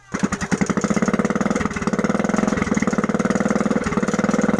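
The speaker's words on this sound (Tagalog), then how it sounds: "Meron nga akong napansin na lumalagatik sa loob ng makina kapag umaandar" A small boat engine runs steadily at close range, its rapid, even chugging carrying a repetitive metallic knocking from inside the engine throughout.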